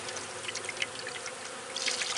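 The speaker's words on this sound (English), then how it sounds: "now we're just pouring the sugar syrup in to feed them" Sugar syrup pours into a bee feeder with a soft, continuous liquid trickle and splash, fairly quiet and close, growing a little louder toward the end.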